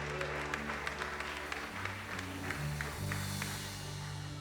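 A church congregation at a baptism service breaking into applause, a soft, distant patter of clapping that carries on steadily under a faint sustained organ or keyboard tone.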